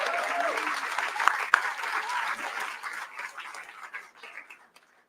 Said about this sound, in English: That ought to get a round of applause.